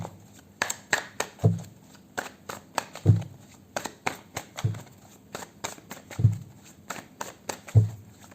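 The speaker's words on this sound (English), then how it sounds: "So let's pull some cards from universe where this connection is headed on and the outcome." Tarot cards are shuffled and drawn by hand in a quiet room, giving soft riffling flutters and sharp snaps in an uneven rhythm of repeated bursts, close and moderately loud, with no talking.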